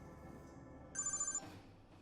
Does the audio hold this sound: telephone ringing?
yes